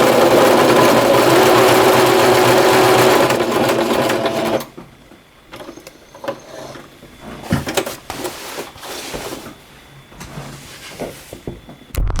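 A sewing machine stitches a patch onto a jersey, with a loud steady whir for several seconds, then short bursts of stitching separated by pauses and fabric handling.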